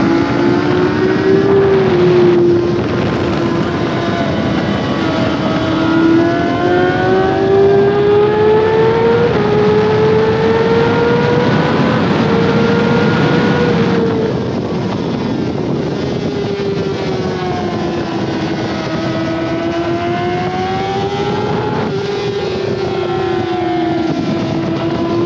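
600cc racing motorcycles scream around a track, engine pitch rising and falling through gear changes and corners, loud and continuous with a second bike audible nearby.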